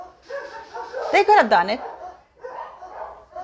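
Dogs bark and yip over a person talking, with a burst of loud, high barks in the middle of the speech and quieter voice before and after.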